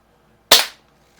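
A single sharp crack from an Umarex air pistol shooting at a splatter target, brief and close, followed by quiet.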